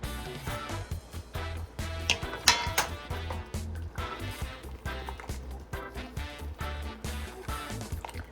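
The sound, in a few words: stirring goat head soup mix in a pot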